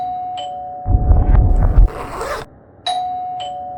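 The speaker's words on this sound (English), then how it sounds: "blurry, contorted footage of Luigi ringing a doorbell" A doorbell rings in blurry footage of a person walking up to press it, giving bright chiming tones at the start and end around a burst of rumbling, rustling noise.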